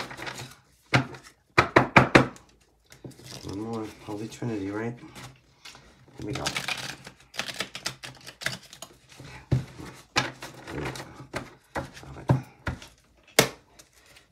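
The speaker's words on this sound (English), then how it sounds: "This is my oldest deck, so it's the thickest and hardest to shuffle." A thick, old tarot deck is shuffled with stiff card riffles, then irregular taps and clatters, heard close up while a person talks intermittently.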